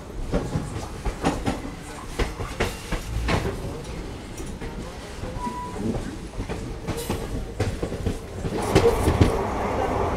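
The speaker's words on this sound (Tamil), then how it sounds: "ஸோ நம்ம வண்டி வந்து இப்போ பார்த்தீங்கன்னா டிபார்ட் ஆகுதுங்க ஹூப்ளி ஜங்ஷன்லேருந்து" Yesvanthpur to Vasco da Gama express train pulling out of Hubli Junction, with steady rolling rumble and clickety-clack of wagons, a brief squeal, and some faint background voices.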